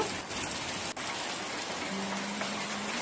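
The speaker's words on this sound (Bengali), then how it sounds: "বেশ ভালোই বৃষ্টি শুরু হয়ে গেল" Rain falling steadily onto tree leaves outdoors, a dense, even hiss of countless drops pattering close by for the full stretch, with no voices.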